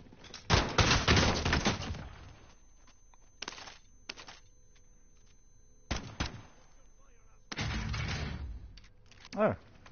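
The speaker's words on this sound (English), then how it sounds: "Oh, I hate this shotgun." Shotgun blasts in a video game ring out in a few loud, separate bursts with quiet gaps between them, while players talk over the action.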